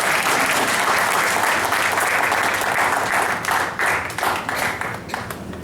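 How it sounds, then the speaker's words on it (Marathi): Loud, sustained applause from an audience at a gathering, dense clapping filling the whole stretch before thinning slightly and turning more uneven toward the end. "आपण सगळ्यांनी एकदा आपल्याकरता टाळ्या वाजवा"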